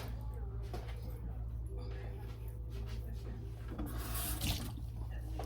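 Tap water runs steadily in a kitchen sink while food cans are rinsed off, a continuous hiss and splash beneath a persistent low background hum.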